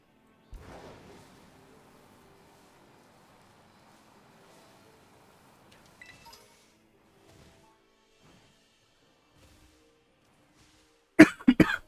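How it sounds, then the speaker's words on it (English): A person coughs once near the start with a brief rasp, then after a long quiet stretch with faint sounds a sharp, loud coughing burst comes at the end. "God damn this cough."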